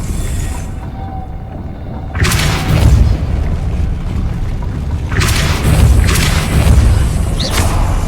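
Depulso force spell blasts in Hogwarts Legacy gameplay, a few heavy booming bursts over a low rumbling game soundscape, with no talk.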